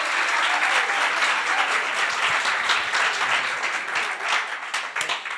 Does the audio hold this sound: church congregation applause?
yes